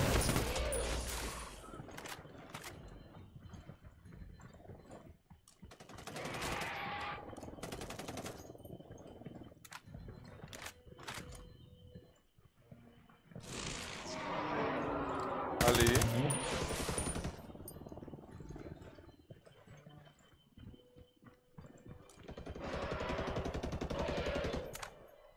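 Bursts of automatic and single-shot gunfire from the Ghost Recon Wildlands video game come in several separate volleys, fairly loud and crackling, with players talking between and over the shots.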